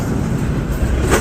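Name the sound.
freight train with DPUs passing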